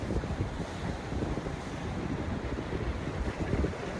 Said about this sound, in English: Just taking a look at the old Atlantic Ocean.